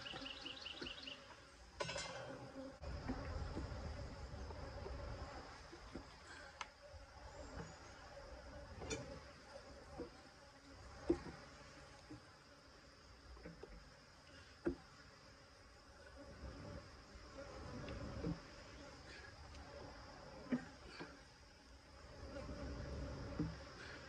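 Honey bees swarm around an open beehive during a brood check of hive #2, their buzzing a steady, close drone that fills the whole stretch, with a few sharp clicks and bumps scattered through it.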